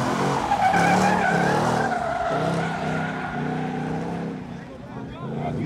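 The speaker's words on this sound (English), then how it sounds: "Now, he trying to drift that thing." Car drifting at an outdoor car meet at a Dodge dealership, a loud sustained tire squeal and engine roar at moderate distance, with people talking and reacting over it.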